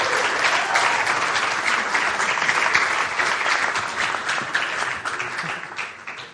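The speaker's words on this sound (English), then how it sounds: "Let's give Uel and Shannelle another round of applause." An audience at a church service gives Uel and Shannelle a round of applause, a steady, dense clapping from a large crowd that carries through and fades slightly at the end.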